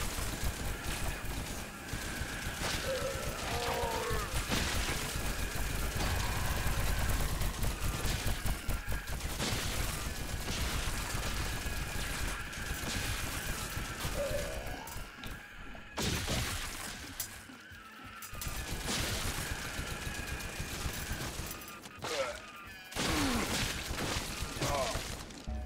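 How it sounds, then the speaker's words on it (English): Continuous rapid gunfire in the dungeon shooter Scathe, dense chattering shots mixed with shattering impacts, steady and moderately loud with a few short breaks. "that's a lot of shooting"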